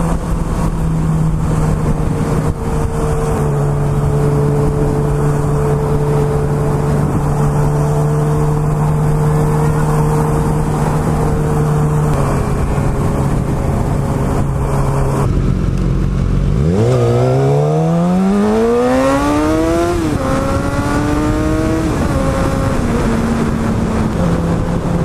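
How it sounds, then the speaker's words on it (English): Husqvarna motorcycle engine, loud and close, holding a steady idle-like drone before revving hard with rising and falling pitch sweeps as it accelerates through gears. "I love his bike, his Husqvarna."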